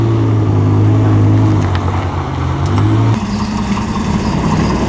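Classic cars drive by at a 2008 concours d'elegance, their loud engines droning close. The pitch drops sharply as one car passes the other, then a lower engine note carries on.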